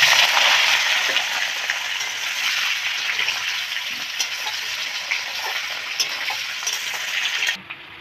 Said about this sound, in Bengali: এখন ইঁচড়টাকে ভেজে নেব।